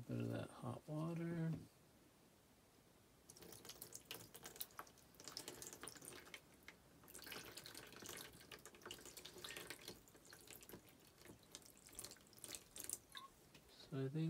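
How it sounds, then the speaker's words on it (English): Hot water is poured from a tap or vessel onto dyed fabric for tie-dye, a soft, close trickle and splash running for several seconds after a short stretch of talk, with a voice returning at the end. "And add a little bit of that hot water."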